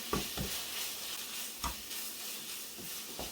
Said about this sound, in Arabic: والهريسه غادي نحركوا هاد المكونات مزيان حتى كتخلط وكتجانس وكتدخل مع بعضياتها